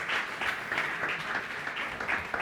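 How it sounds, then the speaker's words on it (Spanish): A conference audience claps steadily in welcome, a dense, sustained applause with no voices on top, heard from within the hall. "un fuerte aplauso de bienvenida"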